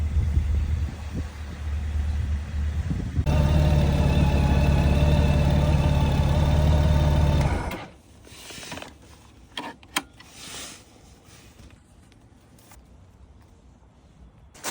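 Honda Goldwing GL motorcycle engine running at its MOT check, a steady close rumble for several seconds that then drops away to quieter clunks and handling noises.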